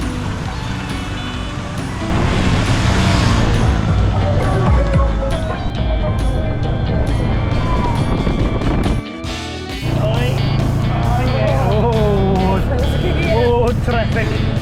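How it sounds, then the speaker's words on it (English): Highway traffic with big trucks on the road from Siem Reap to Phnom Penh past the airport, a continuous roar of passing engines heard from a moving vehicle, with someone talking over it throughout. "Big trucks and everything, traffic."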